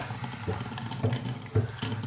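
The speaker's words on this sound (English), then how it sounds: "Turn on the hot water." Hot water runs from a tap into a new stainless steel sink, a steady splashing rush with a few louder gurgling surges, close and without talk.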